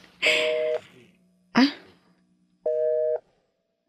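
Telephone busy signal on a call, with two clear, evenly pitched tone bursts separated by a pause, loud and close, and a brief noisy rustle and low hum between them.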